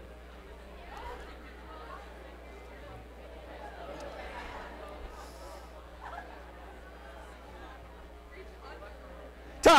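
A group of teenagers at a youth symposium chatter together while working on a shared task, a low steady babble of overlapping voices in a room, capped by a sharp loud clap at the very end.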